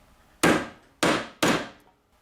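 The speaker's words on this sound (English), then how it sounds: "use something called a center punch to make a little starter hole" Three sharp hammer blows drive a center punch into wood to make a starter hole for drilling, each strike crisp and close with a short ringing decay, spaced about half a second apart.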